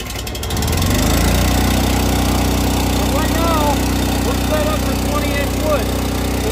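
A commercial vertical wood log splitter's engine cranks and catches within the first second, then settles into a loud, steady idle with a constant drone that continues without a break.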